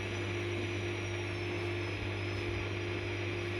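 A washing machine motor hums steadily during a wash cycle, a constant, fairly loud drone with a low buzzing tone and no breaks.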